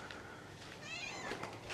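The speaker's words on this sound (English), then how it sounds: "it's full of cats here, huh?" A cat at the Siyam World resort in the Maldives meows close by, two or three short high calls rising over low outdoor background noise, with no talk.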